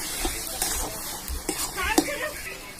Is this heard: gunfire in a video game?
no